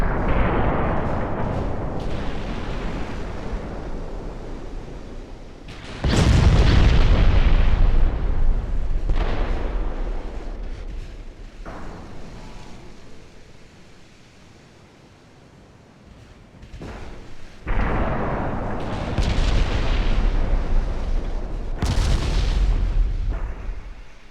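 Naval guns fire in the warship battle game Ultimate Admiral Dreadnoughts, heavy booming salvos with deep rumbling tails that swell and fade, several loud blasts spread across the stretch with a quieter lull in the middle.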